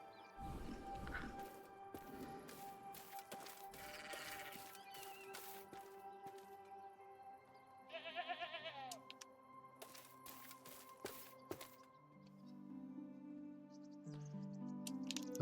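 Sheep bleat in a farming video game, with several short calls scattered over the stretch, mixed with game sounds, footsteps and a tonal background. A voice talks briefly.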